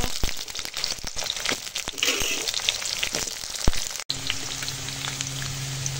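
Cut potato pieces sizzle in a pan with onion and spices. A dense, close frying crackle with sharp pops runs for several seconds, then settles into a quieter steady hiss.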